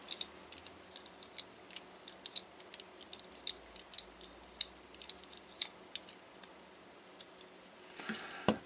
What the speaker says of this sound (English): I can go in here and I can unscrew this